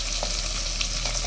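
Pabda fish fry lightly in a pan with a constant, even sizzle of hot oil and a few small pops over it, heard close up with no talk.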